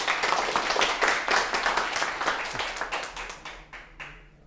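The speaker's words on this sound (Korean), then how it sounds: "숫자가 많다고 박수 소리가 큰 건 아니네요." An audience claps together, a dense burst of applause that holds loud for about three seconds and then thins into scattered individual claps as it dies away.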